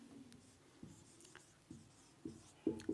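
Chalk or marker writing on a board in a classroom, a handful of short scratchy strokes spaced out, growing slightly louder, close and alone without talk.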